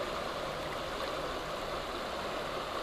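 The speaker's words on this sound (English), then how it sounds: "as I stand in the river." River water flowing around a person standing in it in Sedona, Arizona, a soft, steady, continuous rush of moving water, fairly faint and with no voices.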